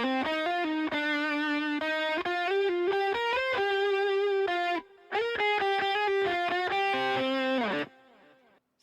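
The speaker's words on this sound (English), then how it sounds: "This guitar." Electric guitar melody played through distortion, chorus, ping-pong delay and stereo imaging effects, loud and continuous with sustained notes, a short gap midway, then a fading delay tail.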